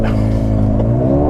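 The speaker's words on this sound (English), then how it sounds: "let's do the launch here from a stop" A 2021 Mercedes-AMG GLA35 launches hard from a standstill, its exhaust roaring loud and close as engine pitch climbs steadily in a brief burst.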